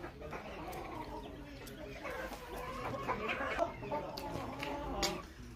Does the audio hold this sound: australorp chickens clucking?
yes